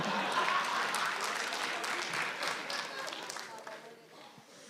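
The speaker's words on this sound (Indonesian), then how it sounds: "Beri tepuk tangan untuk dokter dari Timika." An audience welcomes a stand-up comedian, a doctor, at the SUCI 12 comedy show with loud, dense applause that starts at full strength and slowly fades over several seconds.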